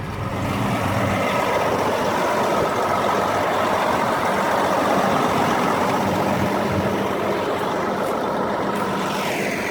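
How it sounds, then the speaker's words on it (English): A John Deere 9630T tractor's large diesel engine idles steadily close by, a deep continuous rumble with no change in pitch for the whole stretch. "It's a John Deere 9630T tractor."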